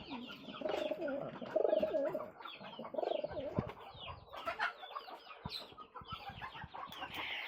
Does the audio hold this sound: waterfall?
no